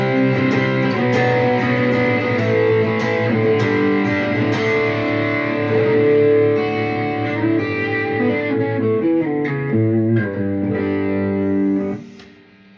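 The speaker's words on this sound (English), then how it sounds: "And I might turn my overdrive." An electric guitar with overdrive through a Boss GX-100 processor plays sustained, distorted chords and notes with a touch of reverb, loud and up close, fading out at the end.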